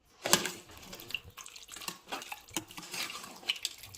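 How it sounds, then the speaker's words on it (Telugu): Water is poured into a pot of Telangana-style desi chicken curry and stirred in, with splashing, metal spoon clinks and scrapes against the pot, close and uneven. "పోసుకొని బాగా కలుపుకోవాలి."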